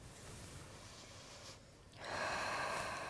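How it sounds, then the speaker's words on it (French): During a hypnosis session, someone draws a deep breath in, audible as a strong, rushing inhalation that swells after a brief pause and holds steady to the end, with no talking. "Tu vas pouvoir prendre une bonne inspiration."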